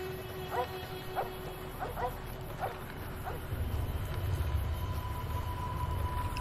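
A dog in the video game Fallout New Vegas barks several times in short, separate yelps over steady ambient game background, which grows into a louder low rumble partway through.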